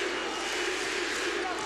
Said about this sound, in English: Sellout crowd coming to life here